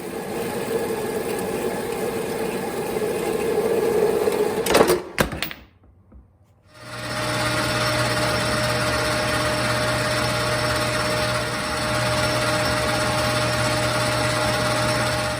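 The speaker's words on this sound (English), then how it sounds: "I'm cutting a 2-inch piece of aluminum round stock." A 2-inch aluminum round stock is cut by machine, giving loud, steady broadband machining noise that cuts out briefly midway, then resumes as an even, sustained drone with a low hum.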